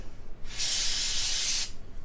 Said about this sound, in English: We'll spray it on this rag.